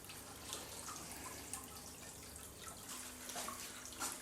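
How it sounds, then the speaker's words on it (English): Water drains out of a grow-system reservoir and clean water runs back in, a faint, steady rushing and trickling wash without any talk. "I'll drain everything out and fill it again with clean water."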